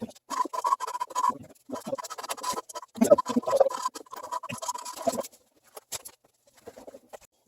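Intermittent scratchy grinding of valves being lapped by hand with grinding compound during a Yamaha Warrior 350 top-end rebuild, close and dry, in irregular bursts that stop near the end.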